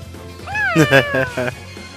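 A cat meows in the video game Tales of Xillia 2, with one drawn-out rising and falling cry followed by several shorter pulsing meows, close and clear over a quiet background.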